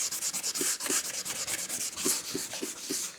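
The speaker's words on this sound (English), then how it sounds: "I start with 400 grit paper, and then I work myself upwards" Car paint chip edges on a Suzuki Jimny are hand sanded with 400 grit sandpaper, a close, quiet, rhythmic scratchy rubbing in quick back-and-forth strokes.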